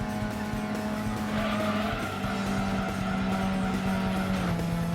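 Cars in a racing video game, a steady engine drone with long tire squeals and skidding across the whole stretch, loud and continuous with no talk.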